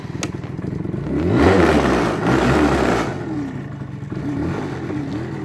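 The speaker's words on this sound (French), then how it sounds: "l'engin qui démarre, pas bruyant du tout" A BW's 88 scooter engine starts and revs, its rough roar swelling for a couple of seconds before settling into a lower, steady running note, close by and with no talk.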